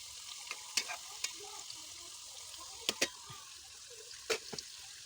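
Kamote cue, sweet potato chunks frying in hot oil before brown sugar is added, with a steady soft sizzle and several sharp pops and crackles spread through it.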